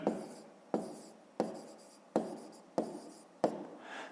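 Pen strokes while writing out a fifth-grade math exercise on paper: about six distinct scratching strokes, each a sharp onset fading out, spaced roughly every 0.7 seconds and heard close up in a quiet room.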